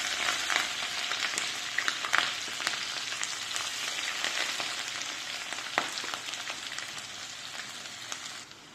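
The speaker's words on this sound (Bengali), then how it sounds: "তেল গরম হয়ে গিয়েছে, দিয়ে দিচ্ছি পেঁয়াজ, রসুন, কাঁচামরিচ।" Onion, garlic and green chilli fry in hot oil, a close, dense, continuous sizzle with crackling pops scattered through it.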